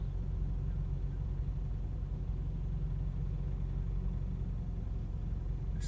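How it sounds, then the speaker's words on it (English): A big truck idles and maneuvers while backing into a parking space, producing a low, steady engine rumble that stays constant throughout. "These guys with these big trucks that don't know how to maneuver them."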